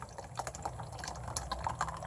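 Warm blackberry mead soap batter pours into a prepared mold, giving soft, close wet trickles and small plopping drips over a low background hum, with no talking.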